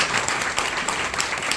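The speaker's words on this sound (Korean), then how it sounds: "일단 박수 좀 한번 쳐드려요" Church congregation applauding during a Korean independence movement memorial service, a steady dense wash of clapping filling the room without a break.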